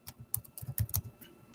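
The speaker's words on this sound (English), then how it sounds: "Excuse my typing." Quick, uneven keystrokes on a computer keyboard, close and fairly quiet, with clacks clustering in short bursts and no voices.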